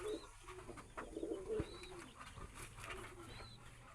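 Soft cooing from a thin-winged pigeon with clipped wings, low and murmuring, repeating a few times at close range over faint background chirps and ambient noise.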